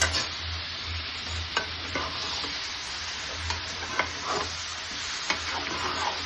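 Mutton with ginger, garlic and green chili paste sizzling in a kadai, stirred with intermittent scrapes and taps over a steady frying hiss, close and without talk.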